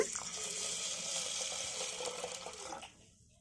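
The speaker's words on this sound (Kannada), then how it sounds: "ಇದನ್ನು 2 ಸರಿ ನೀರು ಹಾಕಿ ಕ್ಲೀನಾಗಿ ವಾಶ್ ಮಾಡ್ಕೊಂಬಿಡೋಣ" Home-made toor dal lentils being rinsed in a bowl of water: steady splashing and swishing of water and grains for nearly three seconds, then it stops abruptly, leaving near silence.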